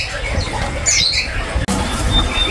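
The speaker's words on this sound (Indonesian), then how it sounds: "ini ada yang namanya burung peleci yang DWI ya" A pleci bird of the Dagon Banyuwangi type gives a few short, high squawking calls, close by and fairly loud, over a steady background hiss.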